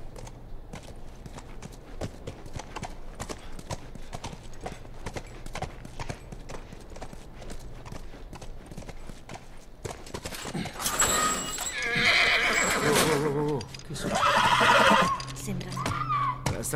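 Horse hooves clip-clop in a steady rhythm through a scene of The Last of Us Remastered, followed by loud whinnies and neighs in the second half, with game dialogue and voices talking throughout.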